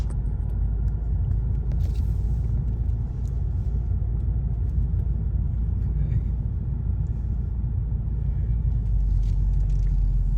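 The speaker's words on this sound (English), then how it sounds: "I feel like such a big boy steering the car on this road." A car drives along a road, heard as a loud, steady low rumble of engine and tyres from inside the vehicle, continuous and unbroken.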